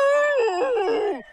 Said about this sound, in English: They started howling at the moon.